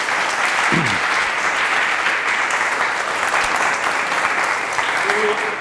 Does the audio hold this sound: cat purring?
no